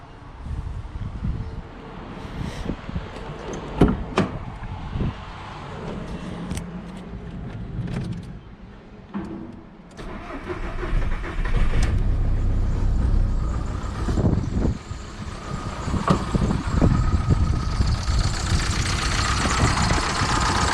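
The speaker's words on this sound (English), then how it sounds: "Now I have connected fuel injector and I'm going to start the engine" A car engine fitted with a newly replaced Siemens Continental fuel injector cranks, catches and settles into a steady idle, running close and loud with irregular knocks and handling noises early on.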